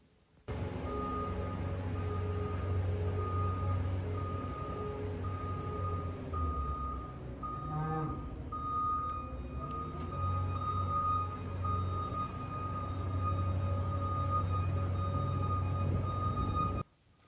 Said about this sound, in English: it's actually the backup alarms on a couple of different vehicles